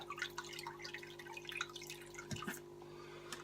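Aquarium tank water trickles and drips into a plastic bag holding a fish, a faint scatter of small splashes and droplets heard up close.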